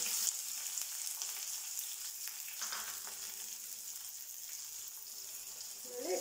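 Onions, curry leaves and green chillies frying in a pan for vermicelli upma give off a soft, continuous sizzle, fairly quiet and close, with a brief louder crackle near the end.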